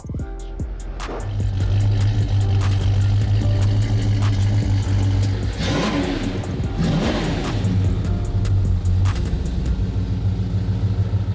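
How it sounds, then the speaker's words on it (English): A Pontiac 455 V8 idles steadily in a car, a deep, loud, continuous rumble with a strong low throb held throughout, and no talking over it. "just sitting here feeling the idle, the whole car vibrating, and like that"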